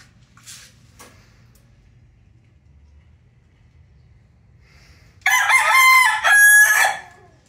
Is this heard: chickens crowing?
yes